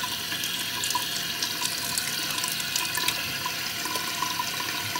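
Water runs steadily from a tap during washing at a sink, a continuous close splashing hiss with small bursts of spatter and no talk.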